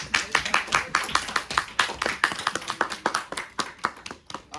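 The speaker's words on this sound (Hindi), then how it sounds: "ताली बजाओ भाई।" Audience clapping at a college debate quarter-final between Hansraj and IIT Ropar, a small group clapping in uneven, sharp bursts, close and loud, with no voices.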